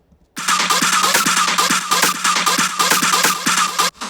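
Original drop, starting suddenly after a brief pause, with loud rhythmic bass hits, bright distorted synth stabs and sweeping notes in a steady driving pattern, then stopping sharply.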